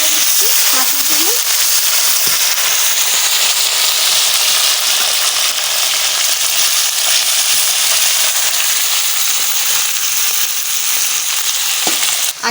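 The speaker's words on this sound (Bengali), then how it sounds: "এই দেখো ছোটো ছোটো মাছ, শৈল মাছ ভাজা করতেছি" Small shoal fish fry in hot oil with a loud, continuous close-up sizzle and scattered crackles, with a brief faint voice early on.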